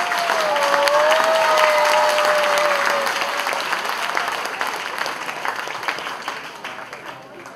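Loud, dense applause from an indoor audience welcoming celebrity guests Bharti and Harsh, a sustained wash of clapping with a faint whistle early on, slowly fading over several seconds.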